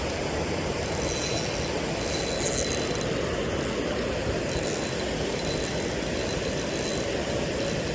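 A river jigging reel's drag gives out a rapid, continuous ratcheting buzz as line is pulled out, loud and steady throughout without pause.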